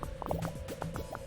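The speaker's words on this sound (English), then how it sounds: "Look at those bubbles." Bubbling liquid in the management game Game Dev Tycoon: a quick run of small, distinct blips and pops, moderately quiet and steady, with no voices.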